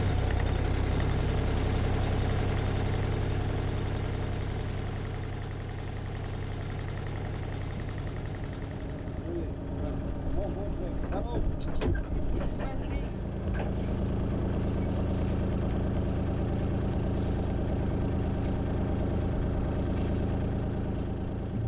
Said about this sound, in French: Le moteur pour lui donner le temps de se réchauffer.